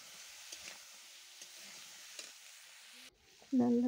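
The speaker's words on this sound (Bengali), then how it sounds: "চিটে কাঁকড়াগুলো লাল লাল করে এবার ভেজে নেব" Small crabs frying with onions and chillies, a faint steady sizzle with light stirring clicks that cuts off before a brief louder tonal sound at the end.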